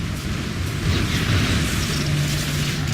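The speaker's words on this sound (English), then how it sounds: "I'm just going to just detonate it right there" A Redeemer warhead detonates in a video game, a loud, broad roaring blast that swells and rumbles on for about three seconds.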